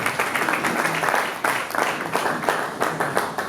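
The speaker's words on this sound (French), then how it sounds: "il faut le payer sur les acclamations." Applause from a crowd at a rap show, steady dense clapping with some vocal noise mixed in, loud and continuous throughout.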